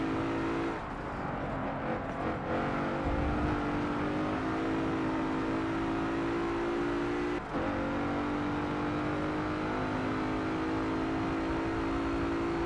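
Mercedes-Benz AMG GT R engine held at high, steady revs on a hot lap in Forza Motorsport, a continuous close drone with a brief dip around a gear change and no speech.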